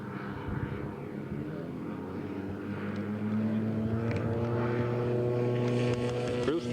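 A radio-controlled scale model B-25 bomber with twin propeller engines flies past at a scale aircraft show, a steady buzzing drone whose pitch shifts and climbs as it passes.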